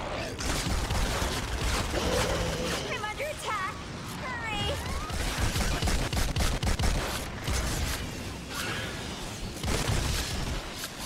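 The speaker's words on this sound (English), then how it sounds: "Fuck you up with this little machine gun" Rapid bursts of machine gun fire in Fortnite on Xbox One, dense and loud, mixed with other game effects and running under a voice for most of the stretch.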